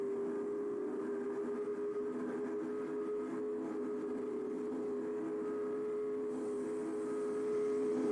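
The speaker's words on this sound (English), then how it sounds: "get myself another shot of the train passing by" In Train Simulator 2021, a Big Boy steam locomotive rolls past a town crossing with a steady sustained tone and rumble of rail cars, moderately distant and even throughout.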